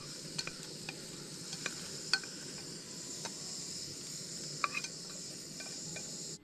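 Eggs sizzle in hot oil in a pot at an outdoor campsite, making a soft, steady sizzle with scattered sharp taps and clinks of stirring over a constant insect-like background hum.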